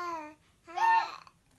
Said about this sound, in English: Sounds of babble and cooing are their way of communicating with you.